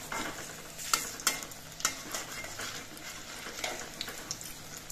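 Radish pakoras fry in hot oil with a continuous soft sizzle, punctuated by several sharp clinks and scrapes as they are stirred and turned.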